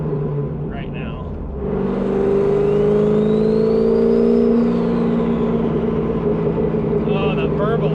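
A twin-turbo Corvette Z06 engine revs up and holds a deep, throaty exhaust burble, loud and close, with a voice speaking briefly over it.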